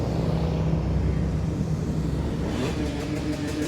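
Motorcycles at a charity toy run, engines rumbling and revving in a dense, continuous roar of passing traffic, loud and steady throughout with no clear single rev standing out.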